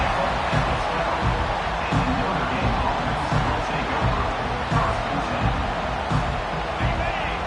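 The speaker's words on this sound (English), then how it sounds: "And this crowd coming to life here, trying to help the defense get a stop with the offense pinned back." An American football stadium crowd builds into a loud, continuous roar during a defensive stand, with a voice talking over the din.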